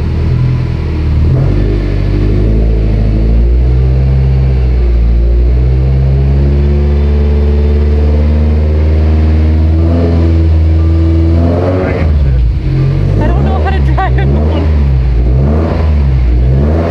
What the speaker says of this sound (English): go through the gears with their new clutch